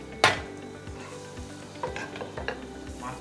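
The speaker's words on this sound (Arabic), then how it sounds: "عم نحط لبن، معلقة مايونيز، عصير حامض، عندي خل ابيض، وبنخلطهم كتير منيح" A spoon stirs yogurt, mayonnaise, lemon juice and white vinegar together in a bowl, giving a sharp clink followed by soft, wet scraping strokes repeating close by, with no talking.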